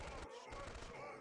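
Gunfire in the real-time strategy game Dawn of War Soulstorm, with Ork units firing: a short, dense burst of rattling shots over a constant background, briefly heard with a voice mixed in.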